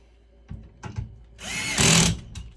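A power drill drives screws into an RV fireplace insert, a Grand Design Innoflame, in short whirring bursts that build to a longer, louder run near the end.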